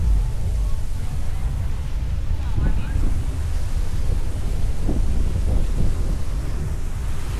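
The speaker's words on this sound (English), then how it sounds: "That wave runner's hauling." A wave runner speeds across the sea off Aruba, its steady engine drone and hull slap blending into continuous surf and heavy wind buffeting on the microphone, with faint voices in the background.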